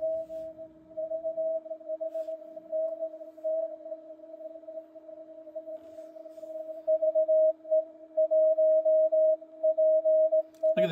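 Continuous CW Morse tone from a Yaesu FT-710 receiver with digital noise reduction engaged, a steady sidetone pitch keyed in on-off code, clean and alone with little background hiss.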